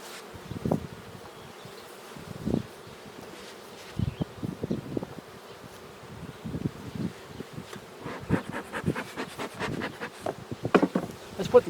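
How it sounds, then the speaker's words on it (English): Honeybees in an open, queenless hive during requeening hum steadily close by, with scattered sharper buzzes and rustling bursts as insects fly near, growing busier toward the end; no talking. "Obviously, there's more bees in this hive."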